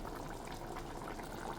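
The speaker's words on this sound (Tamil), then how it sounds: "ஸோ புளி தண்ணி நல்லா கொதித்து வந்துக்கிட்டு இருக்கு." Tamarind water boils in a cooking pot with a soft, continuous bubbling that stays faint and steady throughout the short stretch.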